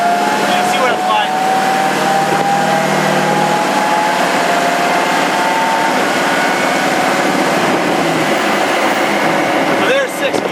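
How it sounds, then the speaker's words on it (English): A Predator AT-RV all-terrain reconnaissance truck cruises on the road in sixth gear at low RPM, its steady engine and road noise droning loudly throughout while someone talks over it. "So I'm gonna get it up to speed, let it kick into 6th gear,"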